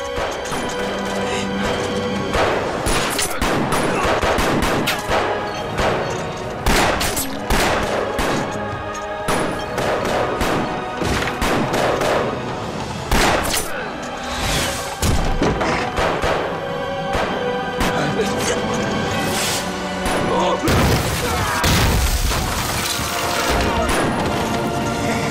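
A war film battle between Eighth Route Army soldiers and Japanese troops, with dense, nonstop gunfire, machine-gun bursts, artillery booms and crashing explosions layered loudly throughout.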